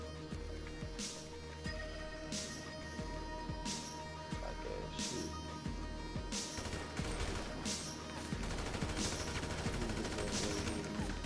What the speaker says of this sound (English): Shots. Gotta be.